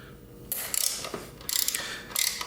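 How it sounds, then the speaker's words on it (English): A ratchet with an extension driving a T50 Torx bit on a BMW S1000RR track bike, three quick bursts of close, crisp clicking ratchet strokes separated by short pauses. "T50 Torx bit and my ratchet with an extension."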